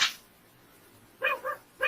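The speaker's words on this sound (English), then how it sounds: "It's the puppy." Puppy barking in a 1990s anti-drug cartoon: a short burst at the start, then three quick yips close together near the end after a quiet gap.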